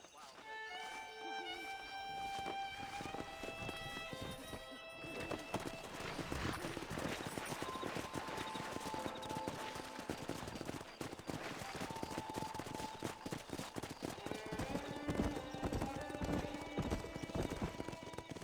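A herd of wild horses gallops in the Red Dead Redemption western game, dense clip-clop hoofbeats pounding close and loud with occasional neighs and gunfire, while characters talk over the drumming hooves.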